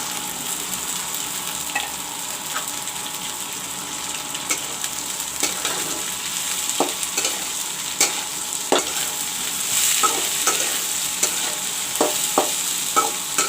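Sprouted moong crackles in a pan with golden-browned onions, a continuous moderate sizzle broken by repeated spoon or spatula scrapes and taps as the mixture is stirred, with no voices.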